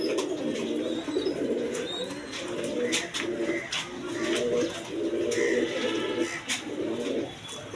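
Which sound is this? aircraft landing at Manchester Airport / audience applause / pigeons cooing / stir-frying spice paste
pigeons cooing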